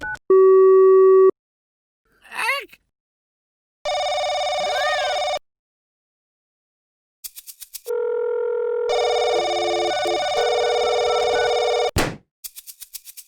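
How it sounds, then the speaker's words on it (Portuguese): Cartoon telephone sounds ring out loud and alone in a series of electronic bursts: a steady tone, a warbling chirp, then long buzzing busy-signal and dial-tone blasts separated by silences. "Telefone!"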